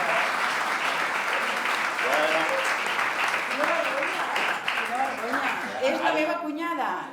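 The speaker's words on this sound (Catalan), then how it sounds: "Un aplaudiment si aquí" Lecture audience breaking into applause, sustained and fairly loud clapping with a voice speaking over it and fading toward the end.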